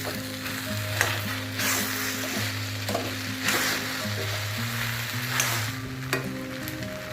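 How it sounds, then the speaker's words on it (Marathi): A steady sizzle of khichdi cooking in a wok, with occasional scraping stirs and a low hum of background tones; no talking. "कढईमध्ये खिचडी शिजत आहे."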